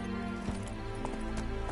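Faint clip-clop of horse hooves in The Witcher 3, sitting low beneath a dense bed of game music and ambience, with occasional soft thuds.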